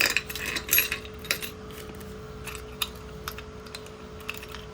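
A big bunch of keys jingles, giving light, close metallic clinks and rattles. They are busiest at the start, then thin to scattered taps.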